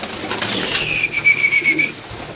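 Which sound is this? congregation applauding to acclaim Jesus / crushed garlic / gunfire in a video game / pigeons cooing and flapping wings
pigeons cooing and flapping wings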